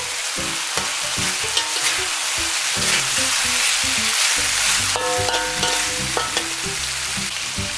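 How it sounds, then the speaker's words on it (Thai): Shrimp fry on high heat in a wok for Thai basil shrimp stir-fry, a loud continuous sizzle with repeated scraping and clattering stir strokes, close up. "ไปครับกุ้งของเขาครับลงนะครับเร่งไฟหน่อยครับ"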